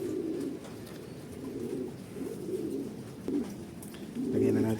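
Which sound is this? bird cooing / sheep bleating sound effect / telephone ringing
bird cooing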